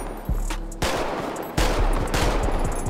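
Modded handgun shots in GTA 5, three loud sharp reports about three quarters of a second apart, each followed by a ringing ricochet tail and lingering reverberation.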